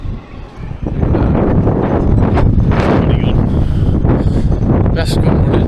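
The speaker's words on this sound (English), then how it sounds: "It's windy as hell." Wind on a hilltop viewing point at Mutton Bird Summit buffets the microphone in loud, gusty rumbling, starting softer and then roaring continuously from about the first second onward.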